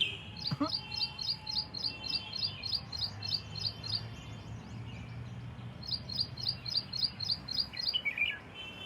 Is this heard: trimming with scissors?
no